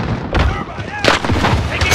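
A frag grenade going off in Call of Duty Warzone, with sharp blasts and gunfire bursts cracking loudly over a busy battlefield background.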